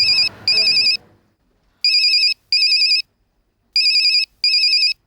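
A telephone ringtone sounds in three paired bursts of bright electronic trills, loud and close, with brief quiet gaps between pairs and a short voice at the start.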